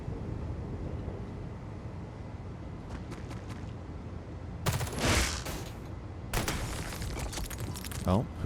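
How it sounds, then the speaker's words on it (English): Suppressed gunfire from the video game Xenonauts 2 comes as a few soft taps followed by two loud, dense bursts, with faint murmuring of game sounds between them. "He should be able to shoot this guy."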